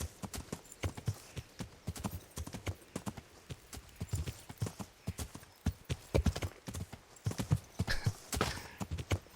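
Horse hooves clip-clopping in a steady riding rhythm in Kingdom Come: Deliverance, close and fairly clear, with faint ambient sound between strikes.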